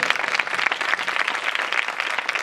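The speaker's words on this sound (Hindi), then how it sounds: "आप इस वर्दी के लिए जोरदार तालियां बजाइएगा।" Dense, steady applause from an audience at a public gathering on violence against women, loud and close, sustained without a break.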